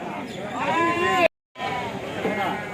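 Goats bleat amid the crowd at the Kadiri goat and sheep market, wavering cries rising over a busy background of voices, broken by a brief silent gap.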